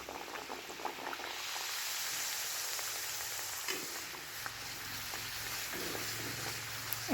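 Sweet puris (sajurya) stuffed with a rice filling fry in very hot oil, a close, dense and continuous sizzle with bubbling and crackling that holds steady throughout, with no talk.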